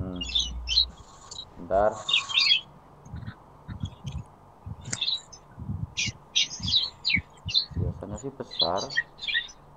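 Birds chirp and squawk repeatedly around a school during an orientation day, fairly clear bursts of calls scattered through the clip while people talk nearby.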